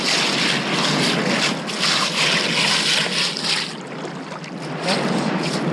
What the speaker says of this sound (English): waves are a little bit hitting us a little, but it's been choppy the last couple days